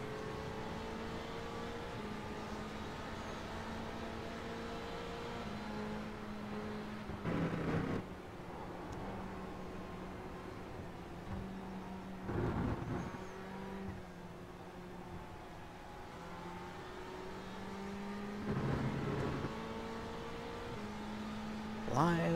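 GTE race cars at Silverstone in the iRacing simulator brake and accelerate, a sustained engine drone that rises and falls with gear changes and several brief louder bursts, heard at moderate level with a voice speaking over it.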